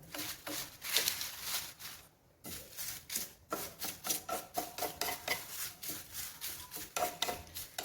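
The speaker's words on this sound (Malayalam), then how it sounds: "ഇത് കൈ എടുക്കാണ്ട് ഇന്ന് ഇളക്കി കൊടുക്കണം കേട്ടോ" Garlic and onion peels being stirred while they roast in a pan, a close, steady scraping and rustling that comes in rhythmic strokes, briefly stopping near the start before the stirring carries on evenly.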